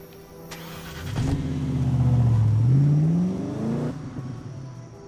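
Car in the James Bond Nightfire video game driving off, engine note rising then sweeping down and back up as it revs and shifts, loud and close for several seconds, no talk.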